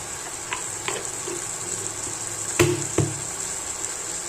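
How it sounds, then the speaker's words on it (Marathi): Chillies frying in hot oil in a pan give a steady soft sizzle, with a few sharp knocks and clinks of a utensil against the pan. "आता बघा तेलाचा आवाज यायला लागला"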